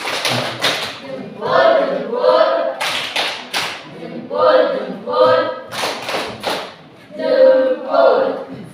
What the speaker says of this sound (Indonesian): Tepuk jempol untuk kelompok 1.